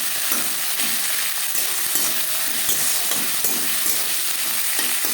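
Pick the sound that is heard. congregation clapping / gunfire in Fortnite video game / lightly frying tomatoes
lightly frying tomatoes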